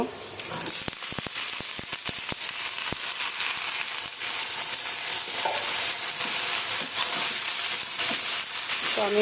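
Bitter gourd frying in a pan, a steady loud sizzle with a burst of sharp crackles early on that settles into continuous hiss.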